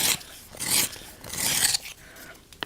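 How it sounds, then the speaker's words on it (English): A juniper green coloured pencil being sharpened by hand, giving close, dry rasping scrapes in two long bursts with a brief pause between and a small click at the end, with no talking. "So I'm just going to use my juniper green, which I'm going to sharpen,"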